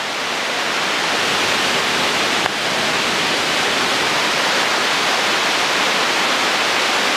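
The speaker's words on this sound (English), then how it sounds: "So many different layers, little pools that have formed, and then the water just slowly cascading." Water cascades over layered pools of an open cave waterfall in Satun, Thailand, giving a dense, steady hiss-like rush. It is loud and unbroken apart from a faint click partway through.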